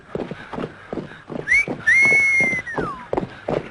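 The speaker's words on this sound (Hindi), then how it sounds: "किसने बजाई सीटी? कैसे बजाई? ऐसे?" A whistle is blown in a Bollywood film scene, a shrill sustained tone lasting about a second and a half that dips at the end, heard over rhythmic background percussion without speech.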